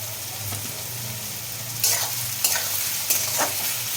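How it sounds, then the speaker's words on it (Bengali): Onions fry with salt in a pan, a soft steady sizzle with a few sharper scraping stir strokes near the end, close by. "তাহলে পেঁয়াজটাও আমার এদিকে ভাজা হয়ে যাবে"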